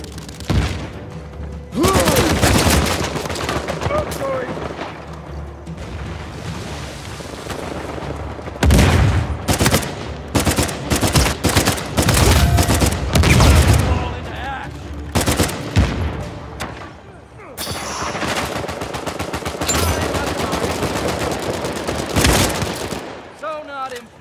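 Loud, close gunfire from FAL rifles in a multiplayer match of the video game Uncharted 4 comes in repeated bursts and heavy booms throughout, with a voice talking at times over the shooting.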